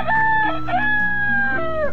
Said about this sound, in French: Je vous assure, il me saoule ce coq.